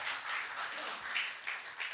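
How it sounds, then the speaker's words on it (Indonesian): A church congregation applauds for Jesus, a broad wash of many hands clapping at once, loud and continuous for a couple of seconds. "Tepuk tangan bagi Tuhan Yesus"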